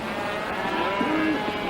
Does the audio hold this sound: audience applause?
no